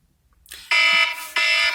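A phone alarm goes off in two loud, close bursts of bright electronic beeping, starting after a moment of near silence.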